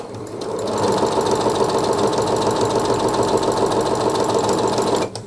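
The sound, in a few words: Pfaff Passport sewing machine sewing straight stitch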